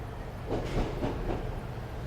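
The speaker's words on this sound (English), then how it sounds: "the joint sounds on this train are very, very nice" A Class 153 train rolls past in Cardiff with a steady rumble and a few soft rhythmic clicks as the wheels cross the rail joints, somewhat muffled.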